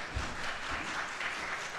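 Guests applaud at a university graduation session for a political science faculty, a soft, steady patter of many hands clapping, heard from some distance.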